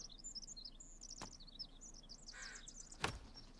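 Birds chirp steadily in The Forest video game, bright rapid tweets in a continuous chorus, with a couple of sharp knocks and a brief rustle breaking through the quiet outdoor ambience.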